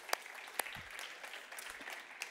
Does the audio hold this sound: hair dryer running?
no